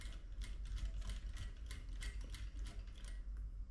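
A sewing machine stitches fabric while a zipper is sewn, giving a steady, close mechanical clatter of rapid ticking needle strokes that runs continuously without talk.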